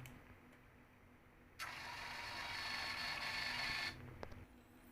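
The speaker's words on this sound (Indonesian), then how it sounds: "maka data tersebut akan tercetak struk pada printer thermal" A thermal receipt printer at a point-of-sale setup prints a sales slip: a quiet background gives way to a steady buzzing whir that lasts a couple of seconds and then stops with a soft click.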